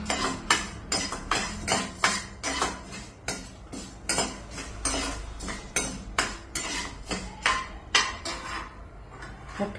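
A utensil clinks and scrapes rhythmically against a metal pan while urad dal and chana dal are dry-roasted, in steady repeated strokes of clear, close clatter with no talking.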